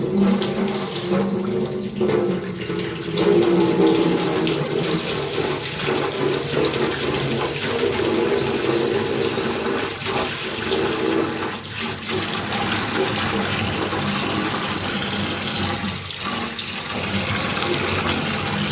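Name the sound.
tap running a lukewarm bath for a bearded dragon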